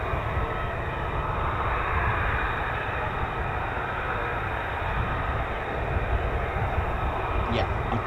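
F-35 fighter jets taxi on the ground, a steady, loud engine roar with a broad hiss that holds evenly throughout.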